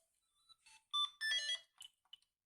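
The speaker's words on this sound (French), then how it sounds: "nous sommes interrompus par le téléphone" A telephone rings quietly during a card-reading session, a few short electronic ringtone bursts with brief gaps between them, faint and alone with no talk.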